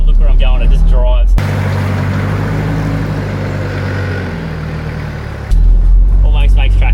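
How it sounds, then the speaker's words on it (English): A Toyota Hilux crawls along an off-road track in second gear, its engine holding a low, steady drone, with a voice heard briefly before and after. "it's actually in second gear at the moment, just crawling"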